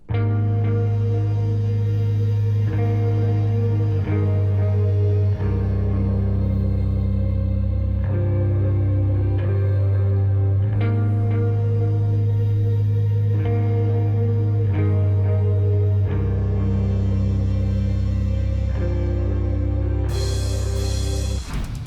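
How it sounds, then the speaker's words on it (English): A dense, loud melodic metalcore intro plays continuously, sustained synth pads layered over heavy low guitars and steady pulsing rhythm, with a brighter burst at the end. "for the intro of the song, it was really calling for some synths"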